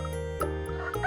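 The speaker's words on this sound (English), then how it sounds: "roosters say cock-a-doodle-doo to wake up the farm" A rooster on a farm gives a brief, harmonic cock-a-doodle-doo crow, loud and close, with no voices over it.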